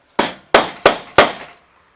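Four sharp, evenly spaced hammer blows ring out close up while wire mesh is tapped down around a pipe for a homemade well filter, each strike followed by a short decay.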